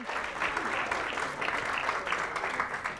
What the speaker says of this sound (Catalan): Aplaudiment per l'escola El Cim.